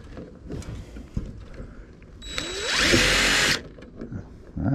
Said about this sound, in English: give me the rivet gun and my drill so I can drill the hole